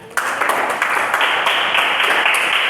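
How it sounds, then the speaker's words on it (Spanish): Sustained applause from a church congregation, steady and fairly loud, starting abruptly and holding for a few seconds. "Dele un fuerte aplauso al Señor."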